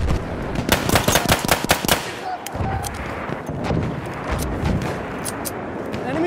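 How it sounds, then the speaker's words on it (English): Rapid machine gun bursts in a Battlefield 1 battle, a dense run of loud close shots in the first two seconds, then a rumbling barrage of more distant fire with shouted voices in the mix. "Machine gun over there!"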